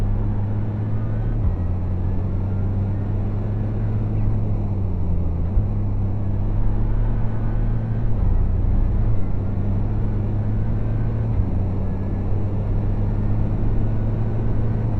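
A car engine in a racing video game drones steadily throughout, with stepped pitch shifts as the revs and gears change, loud and continuous with no talk.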